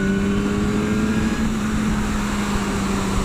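A BMW S1000R motorcycle engine pulling hard after a downshift, a steady droning roar with a strong sustained tone, close and loud, wind noise mixed in.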